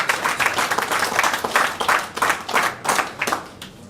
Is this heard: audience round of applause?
yes